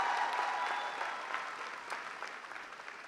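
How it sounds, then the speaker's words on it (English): Graduation commencement audience at a high school ceremony applauding from the stands, a steady broad wash of many hands clapping that slowly thins and fades over a few seconds. "Can we give another round of applause for the student speakers and their wonderful words?"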